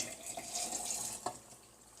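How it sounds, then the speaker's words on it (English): Filtered tap water runs into a jar at close range, a soft steady splashing trickle with a small knock partway through, fairly quiet and without talk. "So now we're going to fill this up with water"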